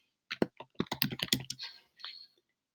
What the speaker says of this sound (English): I'm just going to go ahead and type in some information.